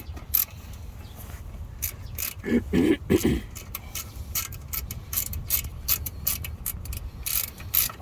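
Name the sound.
ratchet socket wrench turning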